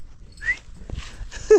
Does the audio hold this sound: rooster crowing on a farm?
no